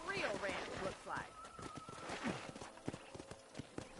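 Horse hooves clip-clop on a ranch in the video game Red Dead Redemption, steady and moderately close, with a brief whinny and birds in the background while people talk over it.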